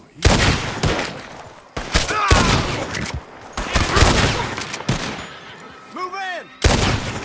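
Repeated loud gunshots in Red Dead Redemption 2, sharp bursts fired in several separate volleys with reverberant tails, mixed with voices shouting between the shots.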